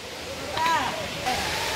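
Water pours over rocks at a waterfall, a steady broadband rush close by, with a person talking over it throughout.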